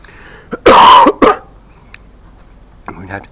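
A person coughs twice in quick succession, loud and close, a harsh burst followed by a shorter one, with a faint throat sound or murmur trailing afterward.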